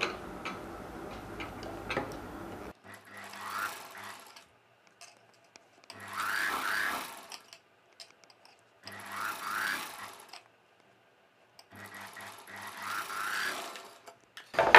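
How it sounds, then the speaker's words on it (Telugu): A sewing machine runs in four separate bursts of rapid stitching as it sews a folded hem on the second side of a long dress, with near-silent pauses between runs. "ఇదే విధంగా ఈ రెండవ వైపున కూడా అంచుని ఫోల్డ్ చేసి కుట్టు వేసుకోవాలి."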